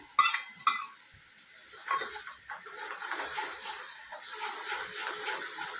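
Ginger fries in oil with garlic for pav bhaji, a faint, steady sizzle broken by a few sharp spoon clicks and stirring scrapes against the pan.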